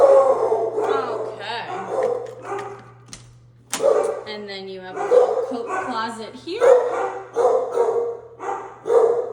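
Small dogs bark and yip repeatedly in the background while a person talks nearby.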